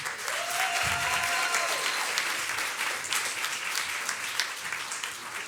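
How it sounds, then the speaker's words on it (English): A crowd at a city inauguration ceremony applauds Judge Maria Barlow, a sustained wash of clapping across the whole span, with brief voices and a whistle-like tone near the start. "let's give a round of applause to Judge Maria Barlow."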